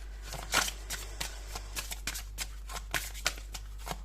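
Tarot cards are shuffled by hand in a series of quick, soft riffling bursts and flicks, close and fairly quiet, over a steady low hum, with no talk.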